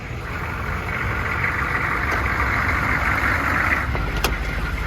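A rough old Squarebody pickup truck engine idles nearby with a steady, even broadband rumble, alone and unbroken, with a faint click near the end.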